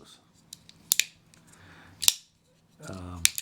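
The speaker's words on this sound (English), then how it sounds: "which gives the knife a little more of a solid sound and feel when it opens and closes." A Benchmade Griptilian 551 folding knife with plastic handles flicks open and snaps shut with sharp, close clicks. The clicks come in three distinct bursts, with lighter ticks between them, and a short stretch of speech is heard near the end.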